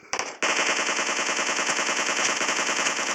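Rapid automatic gunfire from a PUBG Mobile match rattles out in a fast, evenly spaced burst lasting about three seconds, loud and close, after a couple of brief shots at the start, with no voices.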